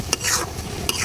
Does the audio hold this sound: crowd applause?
no